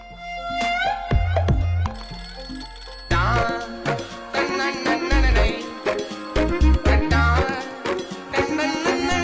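A telephone rings in a Hindi-dubbed South Indian feature film, its bright electronic ringtone sounding amid busy, punchy musical score with heavy low thumps and jangling accents throughout.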